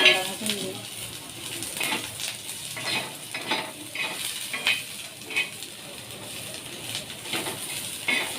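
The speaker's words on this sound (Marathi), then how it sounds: "मस्त कांदा भाजून घेऊ." Onions frying in a pan on a gas stove at home, a soft continuous sizzle broken by intermittent scraping and stirring clinks of a utensil against the pan.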